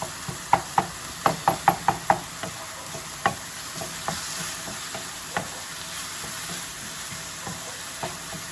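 Onions frying with ginger garlic paste and cumin give a soft steady sizzle, punctuated by a quick run of sharp spatula taps against the pan early on and scattered scrapes afterward.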